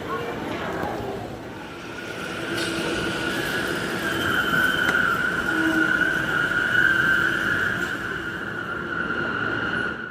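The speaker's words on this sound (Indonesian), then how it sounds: "Dan untuk komuter lain tujuan Manggarai sudah datang nih teman-teman." KRL Commuter Line electric train bound for Manggarai pulls into a station, a steady rumble of wheels on rail with a sustained squealing whine building and easing, while people's voices murmur underneath throughout.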